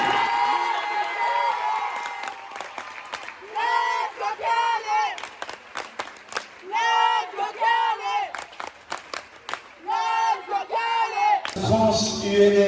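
A school crowd at a French UNSS high-school basketball event cheers for the Léonard de Vinci lycée in Canet, with repeated bursts of rhythmic chanting and shouting between short pauses, then a closing swell of applause.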